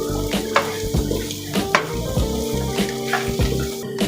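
A spice mixture for keema stuffing, with crushed red chili, dried coriander and salt, is stirred in a pan with a soft sizzle underneath, broken by repeated scraping strokes of a spoon.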